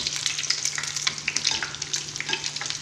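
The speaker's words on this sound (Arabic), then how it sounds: "اذا نديرهم في الزيت، نقلي الشوفلور تاعنا" Cauliflower florets frying in hot oil give a steady, dense sizzle with crackling pops and bubbling throughout, close by and with no talk.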